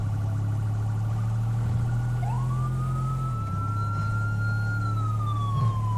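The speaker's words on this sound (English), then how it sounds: "Pull out in front of a cop car when you see him with his full blast sirens on" A police siren in GTA 5 wails, rising then holding a long steady tone, over a constant low engine hum with no talking.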